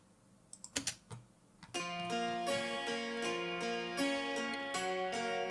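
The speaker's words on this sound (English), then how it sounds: "used Waves clavinet, and it sounds like this" Waves clavinet plugin plays MIDI captured from a 12-string guitar, a bright, plucky keyboard part with slight distortion starting after a few sparse opening notes and continuing steadily as sustained chords.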